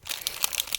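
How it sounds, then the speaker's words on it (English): A package being opened gives a short burst of crinkling plastic, several quick rustling crackles close by within under a second. "sorry for the crinkling"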